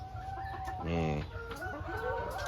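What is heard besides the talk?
KUB Narayana and Elba chickens clucking in battery cages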